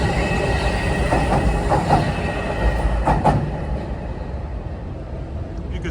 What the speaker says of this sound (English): Try to capture some of the key trains here, both MU and locomotive hauled.